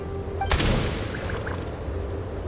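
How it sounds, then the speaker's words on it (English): A single sharp gunshot goes off in the video game Genshin Impact, a loud boom that decays quickly, followed by faint in-game ambience and a few soft tones. "There's the gunshot."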